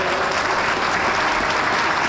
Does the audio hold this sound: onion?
no